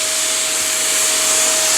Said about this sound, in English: A good thing using a HVLP sprayer is that you don't need a lot of it.